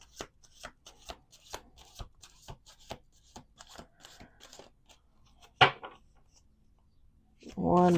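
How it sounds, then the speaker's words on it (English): A deck of tarot cards shuffled repeatedly, a steady run of crisp riffling flicks close by, then a sharper slap and a brief voice at the end. "Let's do 2 more shuffles."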